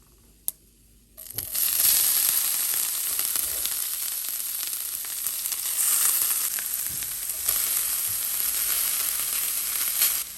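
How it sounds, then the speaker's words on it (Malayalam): Cooked red spinach tips into a pan of urad dal and curry leaves frying in oil. After a quiet start with one small click, a loud, dense sizzle erupts and crackles steadily to the end. "നമുക്കിനി നമ്മൾ കുക്ക് ചെയ്ത് വെച്ച് ചീര പയ്യെ അതിനകത്തോട്ട് ഇട്ട് കൊടുക്കാം"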